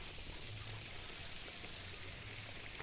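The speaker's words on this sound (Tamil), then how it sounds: "இப்போ தண்ணீர் பாய்ச்சிக்கிட்டு இருக்கோம்." Irrigation water flows steadily into a coconut farm, a continuous, even rushing and trickling with no breaks, fairly quiet and close, with no talking.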